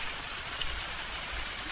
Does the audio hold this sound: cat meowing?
no